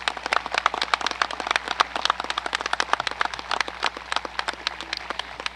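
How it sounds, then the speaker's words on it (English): Steady applause from an audience at a high school graduation ceremony, dense overlapping claps filling the hall at an even level throughout, with no talk over it. "Let's have another round of applause for our choir members and their beautiful music."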